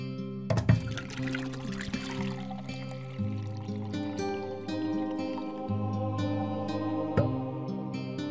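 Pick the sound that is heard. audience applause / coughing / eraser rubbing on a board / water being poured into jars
water being poured into jars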